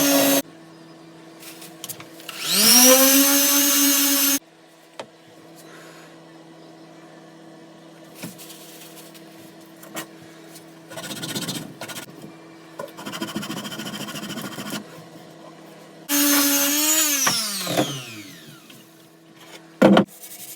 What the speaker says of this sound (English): I'm just going to use the sander with, I think I've got a 60 grit on there